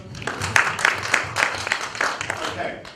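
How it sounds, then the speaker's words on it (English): A seminar audience gives a short round of applause, steady scattered clapping from a moderate distance that carries on for a few seconds, with some voice sound faintly underneath. "Give yourself a round of applause."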